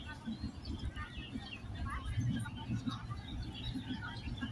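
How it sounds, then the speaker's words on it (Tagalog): Birds chirp in Lai Chi Kok Park, with short, scattered tweets set fairly low beneath a busy background murmur. "pakinggan nyo ang chirping-chirping ng mga ibon"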